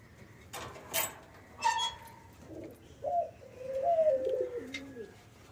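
Pigeons in a loft give several soft, rising and falling coos, close by and fairly quiet, with brief gaps between calls and no talking.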